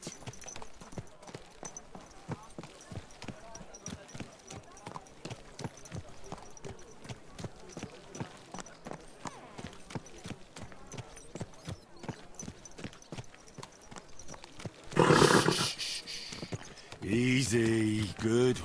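Horse hooves clip-clop in a steady rhythm while riding in Kingdom Come: Deliverance II, with a brief voice line over them and a louder burst of other sound near the end.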